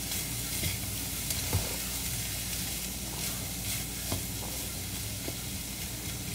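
Chickpeas fry in a hot pan with steady, loud, close sizzling and hiss, broken now and then by faint scrapes and stirring taps.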